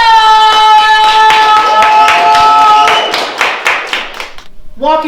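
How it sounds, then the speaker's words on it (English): An open mic night audience claps hands in quick rhythmic bursts, loud and close, over lingering sustained tones that fade before a brief closing sound. "please clap your hands and put your hands together"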